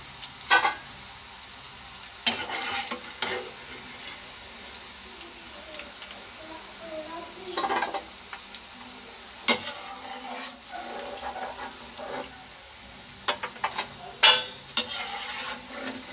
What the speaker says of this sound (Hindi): देखिए खस्ता करारी अच्छी तरह से ये फ्राई हो गई है।